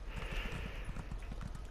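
Horse hooves clip-clop at a steady, rhythmic gait as a horse runs along a beach in The Elder Scrolls Online, quiet and even under a soft ambient background, with no voices.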